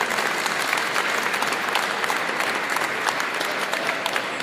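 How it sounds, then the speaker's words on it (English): Audience applause at an evening welcome reception for a new community college chancellor, steady clapping from a sizable crowd filling the room, loud and close throughout with no pauses. "a round of applause for the MCC Foundation."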